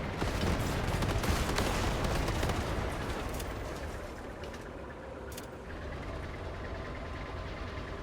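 Turret gunfire rattles in the vehicle-builder strategy game Machine Mind during a large raid. The shots are dense and continuous and stay loud throughout, easing slightly midway, with no talk.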